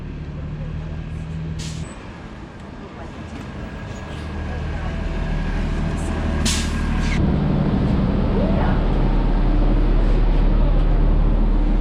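A free shuttle bus pulls up with a low rumbling engine that grows steadily louder, punctuated by sharp hissing bursts from its air brakes, set against continuous street traffic noise.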